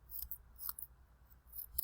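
Small scissors snip through paper in quick, faint, close cuts, several crisp snips spaced irregularly as tiny geometric shapes are cut out.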